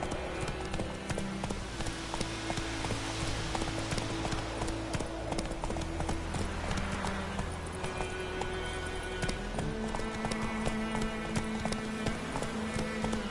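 Horse hooves galloping in The Witcher 3: Wild Hunt, a fast continuous clip-clop rhythm with a low rumble, fairly quiet, under faint game music and a brief voice.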